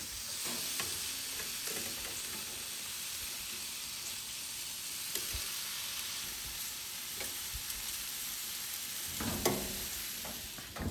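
Skewered chicken thighs sizzle steadily on a low-carb grill cook, a continuous frying hiss with occasional scraping and clanks as the skewers are turned, no talking.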